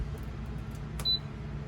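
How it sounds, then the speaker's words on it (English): An Iceco portable fridge gives one short, high electronic beep as it is plugged in. The beep is brief and moderately quiet over a steady low background hum. "We have a beep."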